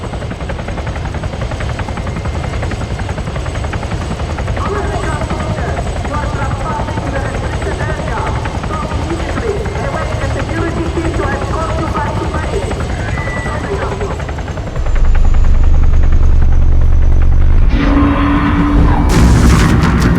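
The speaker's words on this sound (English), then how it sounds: "There's a helo." Helicopter in the game Arma 3, a loud, continuous rotor roar throughout with rumbling booms, a sharp jump in low-end power near the end, and voices talking over it.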